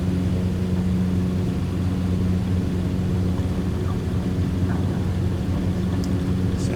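Steady, droning propeller engine of a Tecnam P92 Echo 80hp light aircraft in a video game, running at full power, loud and constant throughout with no voices.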